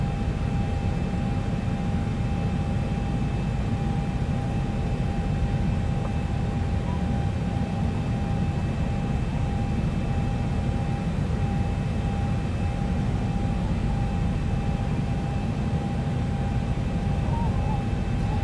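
A continuous, loud simulated aircraft engine drone and wind roar holds steady throughout as a plane approaches to land in the X-Plane 11 flight simulator, with a constant tonal whine above it.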